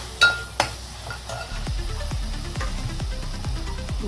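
Green chillies stirred into a pan of palaparugulu fish curry: two sharp metal clanks open, then a low simmering sizzle with rhythmic spoon scrapes repeating about twice a second.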